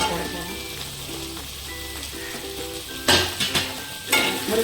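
Drumstick pieces sauté in oil for vegetable sambar, a low sizzle under a voice, then two louder bursts of scraping as they are stirred in the pan.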